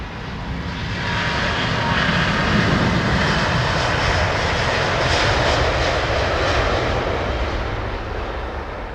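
A large aircraft at Heathrow Airport gives off a loud, continuous rumble from its big tyres and engines, swelling and holding steady throughout.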